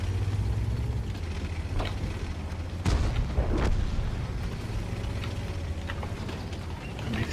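Distant artillery shells land with dull booms in World of Tanks, a heavy thump near the middle standing out over a steady low engine rumble from a Japanese tier 8 superheavy tank.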